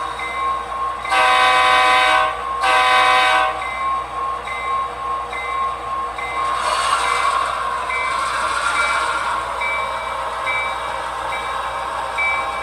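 A toy model train runs with a sharp, ringing bell and horn-like tones in bursts over a steady mechanical hum, heard close and fairly loud with no talking.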